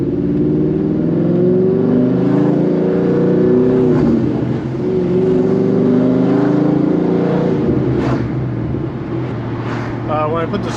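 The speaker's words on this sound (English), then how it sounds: "Let it eat a little bit." Car on old summer tires accelerating on a warm day, its engine note rising and holding in a loud, close in-cabin drone, with a voice talking over part of it.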